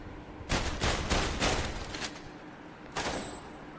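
Gunshots fired at targets on a shooting range in the VR Worlds London Heist video game, several rapid bursts of sharp shots in two clusters with a gap between, loud and close.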